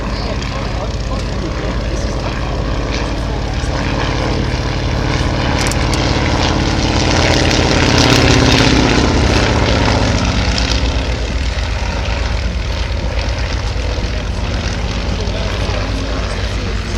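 A WACO UPF-7 biplane at an air show drones steadily overhead as it comes in to land, its propeller engine swelling louder near the middle and then easing off.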